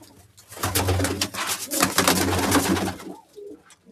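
Nearby pigeons coo in repeated deep, throaty bursts, with some rustling movement between calls.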